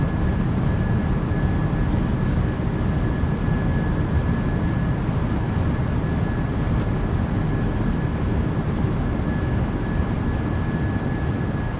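A Boeing 737-800 in the MSFS2024 flight simulator runs its thrust reversers after touching down at Cancun, making a loud, steady, broadband roar that holds unbroken for the whole stretch.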